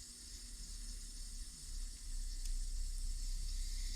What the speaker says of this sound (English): That's just my water softener cycling